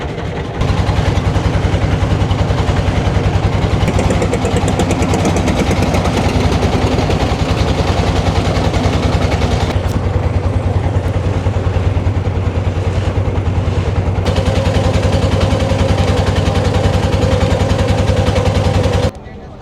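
A boat engine runs on a river ride to Bholaganj Sada Pathor in Sylhet, a loud steady low drone with a rattling throb that holds nearly throughout, then cuts off abruptly at the end.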